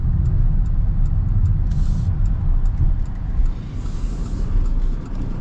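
A 2024 Mitsubishi Outlander SUV accelerates on the road, giving a loud, steady engine and road rumble that swells and dips slightly throughout, with no talking.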